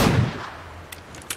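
A single loud gunshot in The Last of Us lands as a headshot, with a sharp attack and a booming low tail that fades over about a second, followed by faint small clicks.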